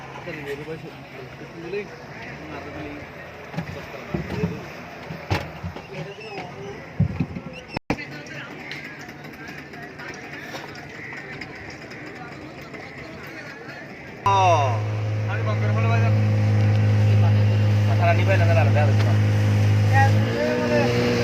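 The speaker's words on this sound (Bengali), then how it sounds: "কক্সবাজারে আসার একটাই মজা, এটা হলো স্পিডবোট দিয়ে" A speedboat crosses the sea from Cox's Bazar toward Moheshkhali, its engine rising to a loud, steady drone in the latter part after a stretch of people talking and ambient wind and water.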